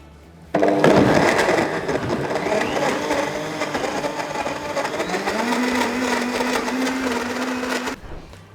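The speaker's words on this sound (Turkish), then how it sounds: "korkusuz bir şekilde blenderımı çalıştırıyorum." A blender switches on abruptly and whirs loudly for several seconds blending lemonade with lemon peels, its motor pitch settling into a steady hum before cutting off.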